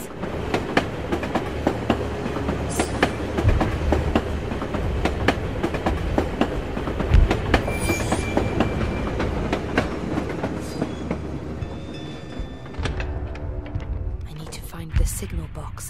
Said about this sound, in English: This tram will take me to the edge of the Volga.